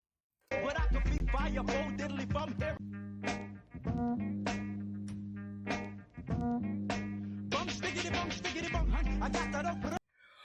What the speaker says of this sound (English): the snare roll is a straight snare roll. It's just 16th notes